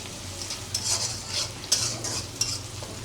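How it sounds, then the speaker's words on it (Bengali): Onions fry in oil left over from frying fish while a utensil scrapes and stirs them, giving a soft continuous sizzle punctuated by several louder stirring strokes, close up with no talking. "ওই তেল দিয়েই তরকারি কষানোর জন্য পেঁয়াজ ভেজে নিচ্ছি"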